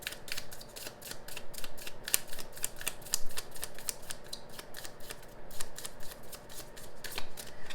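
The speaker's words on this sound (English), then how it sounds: "We can go through one more shuffle to see if anything wants to come out." Tarot cards are shuffled repeatedly at close range, a quick rhythmic series of soft riffling snaps and clicks, fairly quiet throughout.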